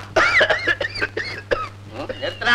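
A man coughs repeatedly in a 1960s Tamil comedy film scene, a run of close, loud, voiced hacking bursts with throaty tails that fill the whole stretch.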